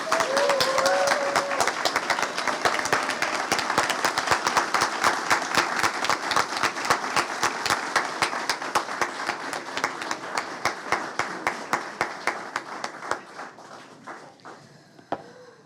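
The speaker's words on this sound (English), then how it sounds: "I want you to give a big round of applause to Dr. Janet Campbell as she comes." Sustained audience applause at a South Carolina school report cards news conference, dense clapping filling the room and gradually thinning toward the end, with a few last scattered claps and no talk.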